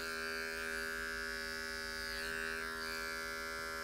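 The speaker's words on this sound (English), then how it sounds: "And then we're going to come back with our trimmer and make our line right there." An electric hair trimmer buzzes steadily and close by while it outlines the hairline during a business cut on fine hair. The whine holds without a break, with a slight shift in pitch partway through.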